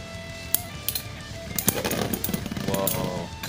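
Metal Fight Beyblade tops, Bahamdia Dragooon LW160BSF against Saramanda Ifrit W145CF, grind and rattle in a stadium with a sharp launch click, then dense buzzing, scraping and clacking collisions, close and loud.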